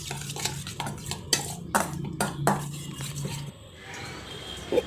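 Spoon stirring sandwich filling with tomato sauce in a bowl, with a run of close, sharp scraping and clinking strokes against the bowl, then a quieter stretch with a faint clink at the end.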